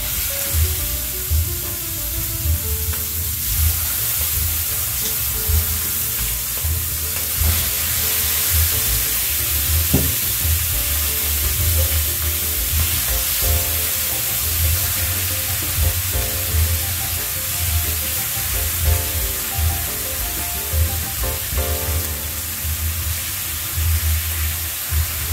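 Beef liver sizzles and fries in olive oil in a hot pan, a steady dense crackle that keeps going with small pops and stirring noises throughout.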